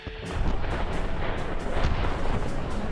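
A toy cannon fires in a tabletop American Revolution battle recreation, giving a loud, continuous rumbling barrage of booms and blasts throughout, like layered artillery sound effects with no voices.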